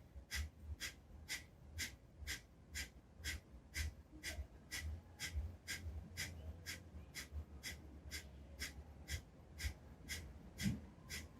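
Kapalabhati pranayama yoga breathing at medium speed, a steady train of about twenty sharp, forceful nasal exhales roughly one every half second, close and fairly quiet, with no talking.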